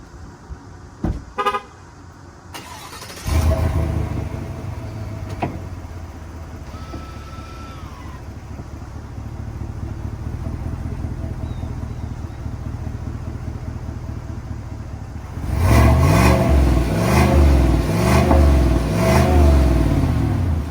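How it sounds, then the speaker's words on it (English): A 2020 Chevrolet Silverado Trail Boss with a small-block V8 and dual chrome-tipped exhaust starts with a brief burst, idles steadily, then revs hard in a series of loud, close pulses toward the end, with no talk. "I'm gonna let you guys see what that small block V8 sounds like really quick."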